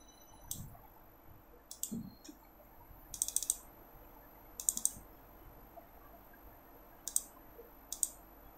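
Crisp, close computer mouse clicks in small bursts of two or three, separated by pauses, set against a quiet room hum with no talking.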